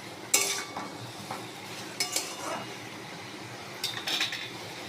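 A utensil scrapes and clinks against a pan while katla fish head with Malabar spinach is stirred, with a few sharp metallic strikes separated by quieter scraping and a faint sizzle.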